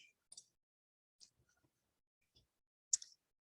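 A few sparse, light clicks from a computer mouse pressing a website button, separated by quiet gaps, close and fairly faint.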